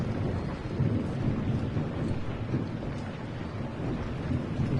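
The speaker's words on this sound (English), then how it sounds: "I like the sound of the rain, me." Steady heavy rain hisses through the night in Dying Light, with low thunder rumbling beneath it the whole time; no voices.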